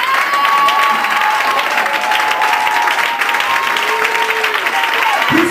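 A church congregation applauding loudly, dense sustained clapping from a large crowd with some cheering and voices mixed in throughout.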